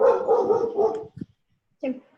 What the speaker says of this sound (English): These dogs are crazy.